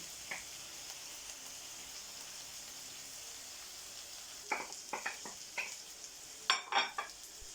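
Kavurma meat with peppers, tomatoes and onions sizzling in a gözleme pan, a soft steady hiss for several seconds, then sharper scrapes and clatters as it is stirred near the end.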